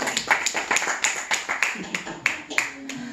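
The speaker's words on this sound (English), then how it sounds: "I think we got to give him a round of applause" A small group at a wedding service claps for a scripture reader, sparse and uneven, with distinct individual claps ringing out close by in an irregular rhythm.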